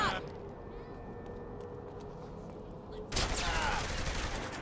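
Gunfire in the Saints Row The Third video game: faint scattered shots early on, then a louder burst of rapid fire in the last second and a half, with a voice talking at times.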